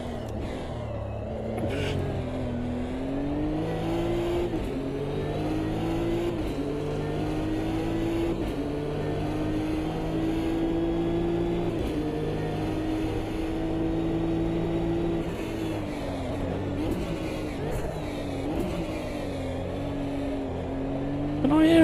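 A turbocharged race car engine in the sim racing game Automobilista 2 drones steadily and loudly with shifting revs and gear changes, a continuous close engine note with faint whining tones above it throughout.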